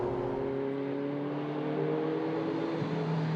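Ferrari 288 GTO turbo engine pulling steadily under acceleration, a continuous close droning hum with smooth, progressive rise and no speech over it.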